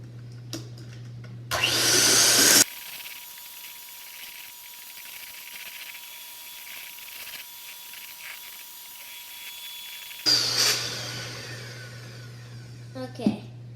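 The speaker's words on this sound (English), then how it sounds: "now let's mix for like 2 more minutes" Electric mixer whipping aquafaba into meringue, a steady whirring drone heard in loud bursts at the start and end with a quieter stretch between.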